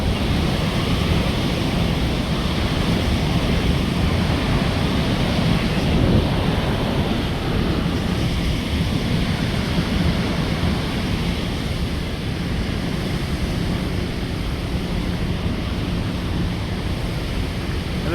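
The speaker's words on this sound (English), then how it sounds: "the huge water falling down there" Victoria Falls in Zambia roars as a constant broadband rush of falling water and spray, steady and unbroken throughout, with wind buffeting the microphone.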